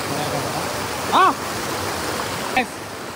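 Water rushes steadily and close by, a constant broad roar, with two brief higher chirps cutting through.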